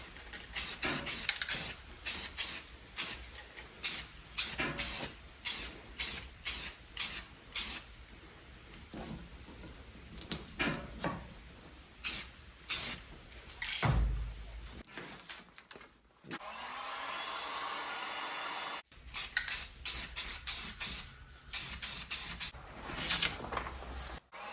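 Flat black Rust-Oleum spray paint hisses in repeated short bursts through a stencil onto a Tracker jon boat, with a brief steady hiss midway and a longer sustained spray before more quick bursts.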